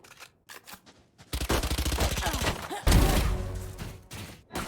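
Rapid automatic gunfire in the tactical shooter Valorant during a match, dense bursts of loud close shots following a few scattered single shots, with a heavy impact partway through.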